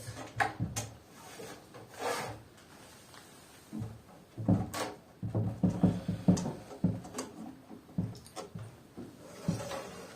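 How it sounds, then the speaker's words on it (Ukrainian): Grates slide back into a bottom-mounted beehive pollen trap, making quiet wooden rubbing and scraping strokes with soft knocks, in several separate bursts close by. "Вставляємо решітки назад."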